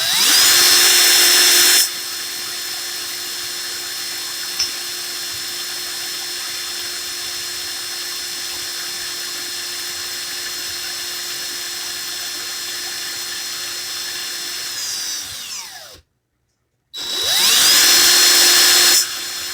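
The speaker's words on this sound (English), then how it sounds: "Oh, my drill's on slow." A power drill spinning at its slow speed setting during a coil-building session, a steady close whine held for about fourteen seconds, then a brief stop and a louder restart near the end.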